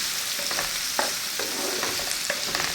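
Mashed sweet pumpkin being stirred and fried in a pan, a constant close sizzle with several brief scraping stirs spaced through it, no talk.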